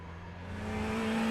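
Ferrari 488 GT3 Evo racing car in iRacing accelerating through a lap at Interlagos, a steady engine drone rising slightly in pitch and loudness over a second, with no talking.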